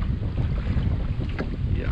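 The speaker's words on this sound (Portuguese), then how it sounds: "Começou a ventar bastante." Strong wind gusts across a lakeside campsite beside choppy water, producing a loud, continuous, buffeting roar that rumbles into the microphone throughout, with no clear voices over it.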